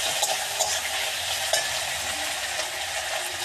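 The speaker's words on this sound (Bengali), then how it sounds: "এবার আলুগুলোকেও ভালো করে ভেজে নেব।" Potatoes fry in a pan for a puti fish curry, giving a steady, close sizzle with a few light clicks of stirring scattered through.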